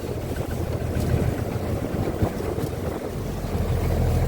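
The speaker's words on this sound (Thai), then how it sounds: "เช้าแล้ว ลมก็ยังตึงอยู่นะครับ" Steady, loud wind roar at dawn on open sea, a broad continuous rush with low churning underneath, like a boat pushing through choppy sea.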